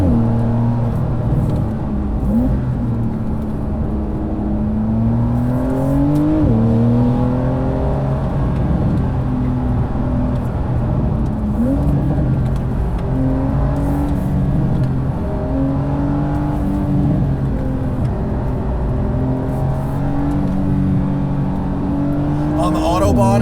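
A 2020 Porsche 992 Carrera 4S on the winding Tail of the Dragon mountain road, engine rising and falling through gear changes and corners, loud and continuous from inside the car, with someone talking over it.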